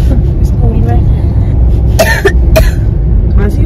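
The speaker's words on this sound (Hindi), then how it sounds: "बच्चा खांस रहा था" A child's few harsh, throaty coughs break through a steady low engine rumble, as if heard inside a moving vehicle.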